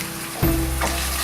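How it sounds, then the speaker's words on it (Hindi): Ground spices with salt, red chili and turmeric roasting in a pan on low flame, giving a steady close hiss of sizzling with a faint stirring scrape partway through, alone with no talk. "ये धीरे धीरे भून रहा है।"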